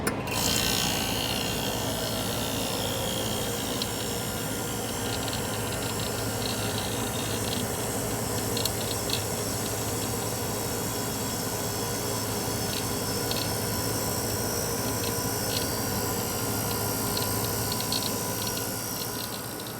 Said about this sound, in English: we're going to start up the compressor